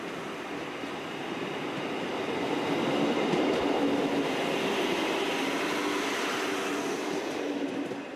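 Class 628 diesel railcar train at Holzminden station in the Weserbergland, giving a steady, close rumble of engine and rolling wheels that swells slightly and holds for several seconds, with no voices.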